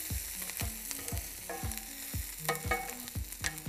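Onions frying in pure olive oil for a Texas-style meat chili, a steady close sizzle broken by repeated scraping stirs of a spoon across the pan, with no voices.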